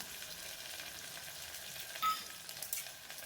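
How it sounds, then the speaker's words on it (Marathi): Whole spices frying in a hot pan during rice preparation, a soft, steady sizzle throughout, with a brief stir or clink near the end, faint and without talk. "तर आता ते खडे मसाले टाकणार आहे"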